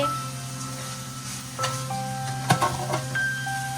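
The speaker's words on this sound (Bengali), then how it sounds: "এখানে চিকেনটা ভাজা হচ্ছে, যেটা দিয়ে চাউমিন হবে, এগ চিকেন চাউমিন হবে" Chicken sizzles and fries in a pan for egg chicken chow mein, a steady hiss with a few clanks and stirring knocks, heard close and without talk.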